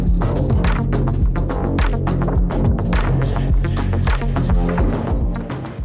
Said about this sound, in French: C'est maintenant le temps de passer l'aspirateur partout dans le véhicule.